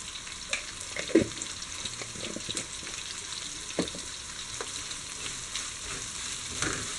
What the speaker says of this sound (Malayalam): ഇത് നല്ല ഗോൾഡൻ കളറാകുന്നവരെ ഫ്രൈ ചെയ്തെടുക്കാം. സവാള ബ്രൗൺ കളറിലായിട്ടുണ്ട്.